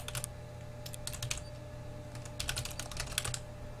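Keys clatter on a computer keyboard while an email address is entered for online game registration: quick irregular bursts of clicks with short pauses, close and moderately loud over a steady low hum, no talking.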